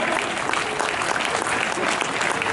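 A full hall audience at a comedian's gathering claps steadily with both hands raised, a dense, even wash of applause that holds at constant loudness throughout.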